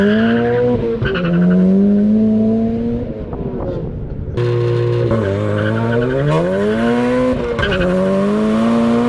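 A Mazda Miata on fresh tires accelerates hard in a 0-60 mph run, its engine loud and close as it climbs in pitch, drops at a gear change and then climbs again.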